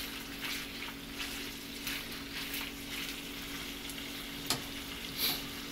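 Bacon fries and browns in a pan while breakfast is cooked for a family, a continuous close sizzle with soft scraping and a couple of sharp clicks near the end, no talking.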